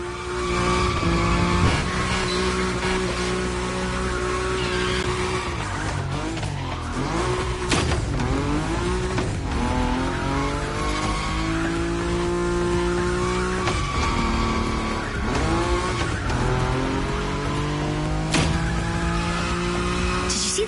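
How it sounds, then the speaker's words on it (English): A Nissan Nismo drifts at high speed in The Crew Motorfest racing game. Loud engine drone and long, wavering tire squeals slide up and down continuously throughout, with no talking. "Your Nismo is powerful enough to slide along on its own when you're at high speed"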